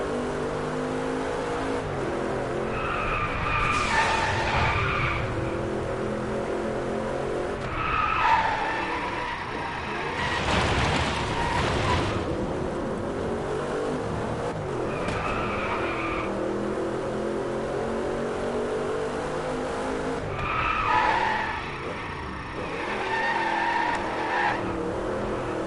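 Cars drifting in the racing video game Driveclub, with loud tire skids and squeals rising and fading in repeated bursts over steady engine drone.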